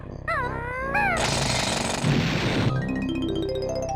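A power drill from the video game Banjo-Tooie whirs loud and steady for about two seconds, a dense harsh grinding between brief chirpy game sounds before and rising tones after.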